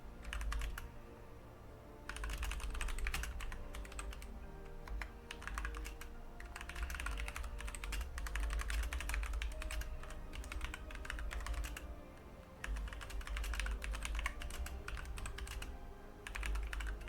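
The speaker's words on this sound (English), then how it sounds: "I'm kind of typing to some other teams here" Rapid typing on a computer keyboard clatters continuously at close range, with bursts of quick keystrokes separated by brief pauses, over a faint low hum in the background.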